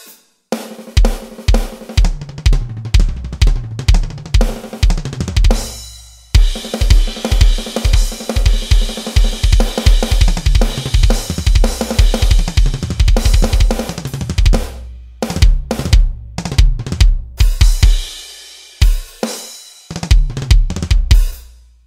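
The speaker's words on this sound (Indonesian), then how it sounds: "kalau ngecek drum elektrik bagus apa enggak sensitivitasnya, gue kadang suka main yang ribet gitu ya" An electronic drum kit is played hard and intricately to test pad sensitivity, with dense rapid fills, kick thumps and cymbal hits ranging from soft to very loud. Brief pauses break up the busy, close, punchy groove, and no one speaks.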